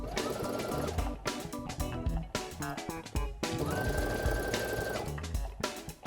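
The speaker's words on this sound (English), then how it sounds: "I'm going to head over to my machine and stitch that across" A sewing machine stitches across the gusset of a pair of briefs, running in fast, steady bursts with short pauses between runs, close and clear with no talking.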